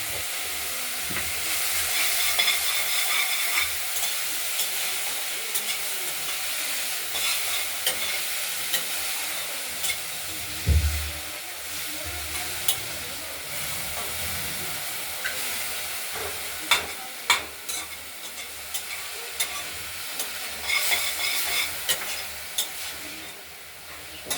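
Drumstick flowers frying in oil in a wok, tempered with black cumin seeds and chilli, give a steady broad sizzle, with occasional scrapes and clatters from stirring throughout; no voices.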